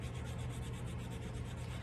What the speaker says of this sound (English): sand, just to try to clean the surface up a little bit